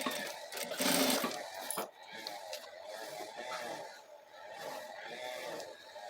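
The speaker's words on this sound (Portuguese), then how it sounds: "E vamos costurar também" A sewing machine stitching fabric for a small baby toiletry case, running in bursts of rapid mechanical whirring and chattering at close range, with a short pause between runs and no clear talking.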